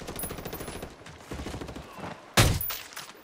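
Gunfire in the video game Ghost Recon Wildlands: a rapid rattle of shots is followed by a single loud, sharp report near the end that rings out over the continuing action.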